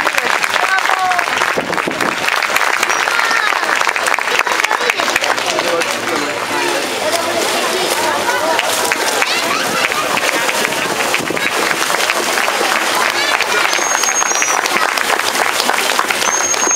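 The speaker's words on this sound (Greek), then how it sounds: "Ας τους χαρίσουμε ένα τελευταίο χειροκρότημα." Loud, dense applause from the audience at a dolphin show at Attica Zoo Park, continuous clapping filling the whole stretch with crowd noise mixed in.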